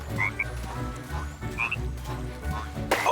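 Frogs croak in a Lego Party pirate-zone minigame, a few rising chirpy croaks spread over a steady busy game music bed, then a bright splashy burst right at the end.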